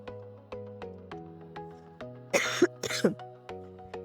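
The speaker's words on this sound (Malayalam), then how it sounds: "ഇങ്ങനെ ചുമയും വന്നു." Inside a car being parked, a repeated electronic chime pulses steadily about twice a second, and two close, loud cough and throat-clearing bursts break in partway through.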